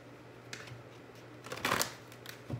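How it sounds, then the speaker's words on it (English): Romance angel oracle cards being shuffled, a few soft riffling bursts with a louder, denser flurry in the middle, quiet and close. "let's pull some romance angels cards for Aries"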